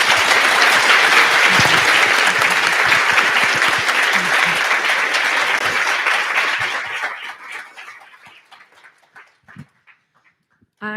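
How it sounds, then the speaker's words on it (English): Audience applause for panelists at a conference session on a truth and healing commission, loud and dense for several seconds before thinning into scattered claps and fading out. "I'd love to give our panelists a round of applause"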